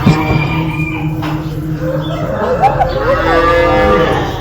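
A drawn-out sheep bleat rises and wavers near the microphone, with a second call following in a noisy outdoor stockyard setting.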